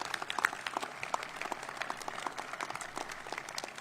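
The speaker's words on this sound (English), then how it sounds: "Give yourselves a round of applause for all that you've done in this group project" Applause from an audience at a ribbon-cutting ceremony for a new public safety training center in DeKalb County, a steady patter of many hands at moderate distance, continuing without talk.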